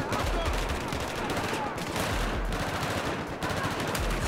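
Gunfire from a sniper rifle in the video game Battlefield 4 sounds as loud, dense bursts of shots mixed with explosions and battle noise filling the whole stretch.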